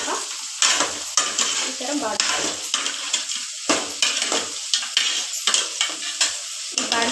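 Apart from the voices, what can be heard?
stirring tomato and onion frying with turmeric and salt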